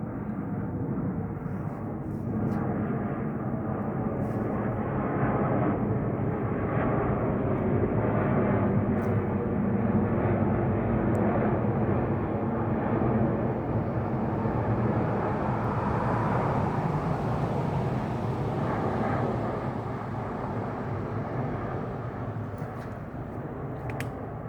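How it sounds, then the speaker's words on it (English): A Virgin Australia passenger plane arriving on a regional flight from Busselton passes overhead with a loud, continuous rumbling roar that holds steady for over twenty seconds, swelling slightly mid-pass before easing. "Here is a Virgin plane. This one's flown in regionally from Busselton."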